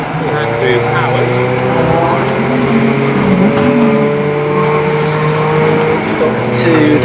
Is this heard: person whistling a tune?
no